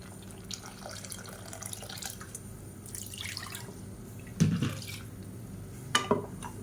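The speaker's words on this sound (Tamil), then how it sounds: "இப்போ இன்னும் கொஞ்சம் தண்ணி சேர்த்துக்கிறேன்." Water poured from a rinsed mixer jar into egg thokku (egg curry) cooking in a pan, heard as a couple of short splashes and trickles over a steady low kitchen hum.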